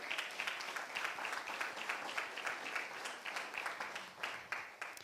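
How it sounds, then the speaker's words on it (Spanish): Church congregation applauding the Lord during a sermon, a steady wash of many hands clapping at moderate, even loudness for several seconds. "Denle un fuerte aplauso al Señor"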